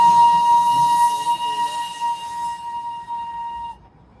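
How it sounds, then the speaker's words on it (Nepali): Darjeeling toy train whistling as it arrives at Batasia Loop: one long, steady, shrill blast holds for several seconds and then cuts off, sounding over faint background bustle. "ट्रेन आइरहेको छ। यसलाई बतासिया लुपको यो ट्रेन"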